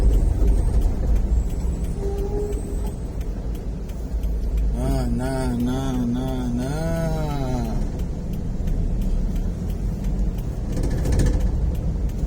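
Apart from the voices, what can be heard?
traffic jam at a toll road gate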